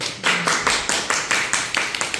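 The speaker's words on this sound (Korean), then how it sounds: "박수 박수" Applause from a group, steady rhythmic clapping in even beats, close and lively, with no talking over it.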